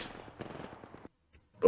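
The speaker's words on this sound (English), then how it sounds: "I start hearing gunshots from the left side." Gunfire in the Apex Legends video game, a burst of rapid shots off to one side at moderate level, stopping after about a second, with a short isolated pop and a louder sound following.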